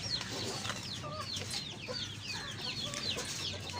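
Shamo breed roosters and hens kept in a small rooftop shed cluck softly, a faint, busy scatter of overlapping chirpy clucks over a low background murmur.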